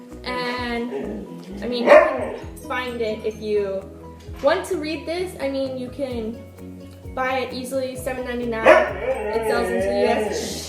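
A pet dog barks and yips intermittently in the background while a person keeps talking over it, the barks moderately loud and scattered through the stretch.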